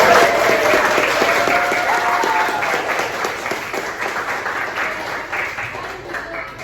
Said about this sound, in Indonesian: Beri tepuk tangan untuk Aji, kemarin habis meraih juara 1 di Taekwondo di Bali.